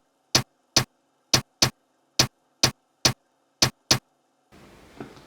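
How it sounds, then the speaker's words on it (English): A hi-hat layered with a snare in FL Studio: nine punchy, full-bodied hits in a syncopated pattern, dry and close, followed by a brief patch of noise. "then with the snare together it then sounds like this"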